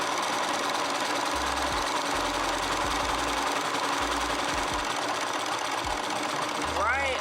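A sewing machine running in short bursts of rapid mechanical stitching, close and loud, with a constant background whir and a person speaking between runs, while making a pillow.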